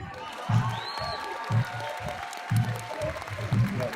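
Audience at a pool match at the Little Dutch Inn applauding, a sustained bed of clapping with a murmur of crowd, overlaid by low thumping bursts and nearby talk.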